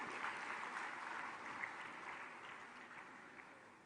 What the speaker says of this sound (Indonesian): Mari kita beri tepuk tangan kepada seluruh debitur KUR.